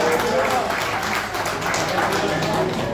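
Applause for basketball coaches at a club dinner dance, a dense steady wash of clapping from a full room with crowd murmur underneath, continuous for the whole stretch.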